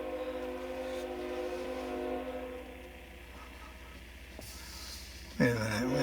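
A train rolls along the track during a blizzard on an Amtrak and CSX line. A moderate, steady rumble carries sustained horn-like tones, ending with a sharp, close burst of noise.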